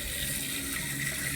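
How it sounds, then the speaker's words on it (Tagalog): Tap water runs steadily into a sink while vegetables are rinsed, a continuous close hiss and splash without pause and no voices over it. "Hugasan muna natin ang mga gulay natin"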